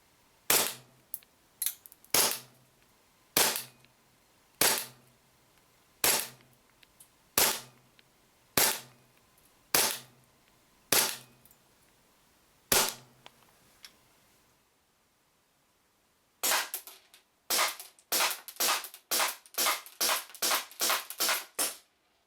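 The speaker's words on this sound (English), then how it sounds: "then we'll go and shoot it through the chrono and do a quick accuracy test at 10" An AEG F18 gas blowback airsoft pistol, a compact Sig P320 type, fired through a chronograph: about a dozen sharp, evenly spaced snaps, a pause of a couple of seconds, then a quicker string of shots, all close and loud.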